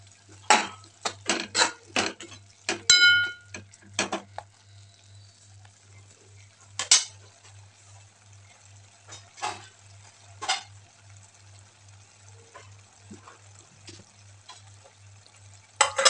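Spinach being sautéed in a pan with turmeric and red chilli powder, scattered spoon scrapes and clinks against the pan over a faint low hum, with bursts of quick strokes early and sparser ones later, no talking.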